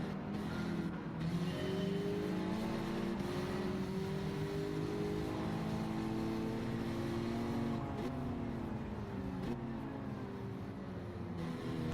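Steady engine drone from a car in Gran Turismo 7, running on a low-RPM turbo setup, with harmonic pitch slowly rising and falling across the stretch and staying fairly loud throughout.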